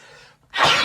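A single short sneeze, close and moderately loud, following a quieter breathy intake, with no talk over it.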